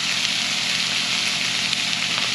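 Breakfast casserole ingredients cooking in a pan give a steady, even sizzle, close and continuous with no talking.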